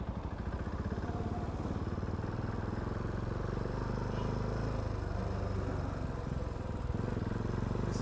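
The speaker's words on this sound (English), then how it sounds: "The bike revs a little bit on the slow side" A 2020 Bristol Classic 400i motorcycle engine drones steadily at mid pitch on a lap, revving gently and holding a continuous buzzing rhythm throughout, close and fairly loud.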